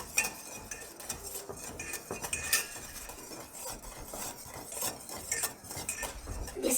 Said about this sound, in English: Now it's getting thinner, but we still have to whisk it till 10 minutes passes.